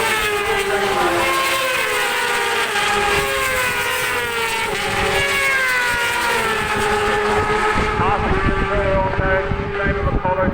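Racing motorcycles at Bishopscourt circuit in County Down, Northern Ireland, including a Russell race Yamaha, roar past loudly, their engine notes rising and shifting as they pass, with a commentator talking over the noise.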